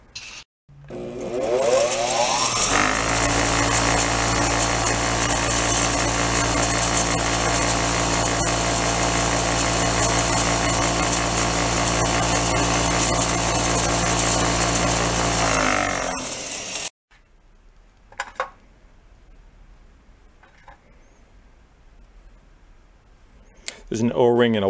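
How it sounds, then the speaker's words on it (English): A bench wire wheel whirs loudly and steadily for about fifteen seconds, scrubbing crud off a carburetor part from a yard sale leaf blower, then spins down into near quiet broken by a few small clicks and handling noises. "We'll take that on the wire wheel."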